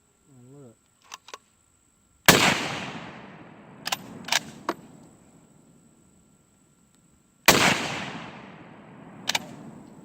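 Two loud, sharp rifle shots fired outdoors, several seconds apart, each with a long rolling echo, plus a few light mechanical clicks between them; insects chirp faintly in the background.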